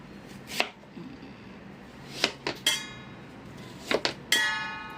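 Several sharp knife chops through dry taro against a cutting board, irregularly spaced with short pauses, close by in a quiet kitchen.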